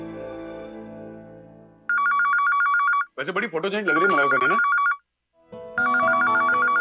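An electronic phone ringtone repeats in regular bursts, interrupted by a short melodic tone and a pause, with people briefly talking in between.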